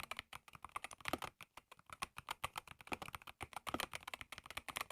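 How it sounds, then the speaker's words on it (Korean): Rapid continuous typing on a white SteelSeries Apex Pro TKL Gen3 mechanical gaming keyboard with magnetic switches, producing a dense stream of soft, moderately quiet clacks heard close up without any voices. "바로 타건음 들려드릴게요."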